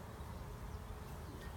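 Honeybees buzz around an open beehive, a steady dense hum of many insects heard close and continuous, with no voices.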